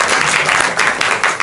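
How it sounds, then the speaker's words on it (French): An improv festival audience bursts into brief, loud applause, dense clapping that swells and dips in quick waves. "Bon applaudissements."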